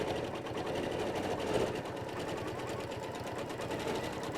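A sewing machine stitches steadily along a quilting template, its even mechanical whirr running close and continuous with no pauses.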